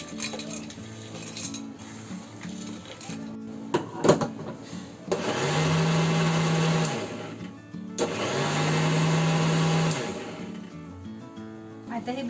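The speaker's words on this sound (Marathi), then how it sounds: "आता हे बिस्किट वाटून झालेत. बारीक पावडर केली याची." An electric mixer grinder whirs loudly in two long bursts, pulverising biscuits into fine powder for a chocolate mini cake, with brief clattering and handling noises before and between the runs.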